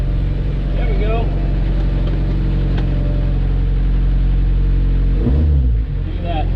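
A Suzuki Samurai engine runs steadily with a deep low rumble, briefly revving near the end, close by, with voices talking over it.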